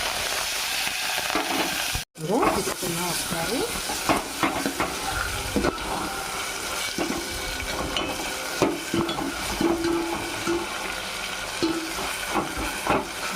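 Onion, tomato, curry leaves and green chilies sizzle steadily in hot oil in a pan while being stirred, a close, continuous frying hiss broken by scraping strokes, with a brief spoken remark.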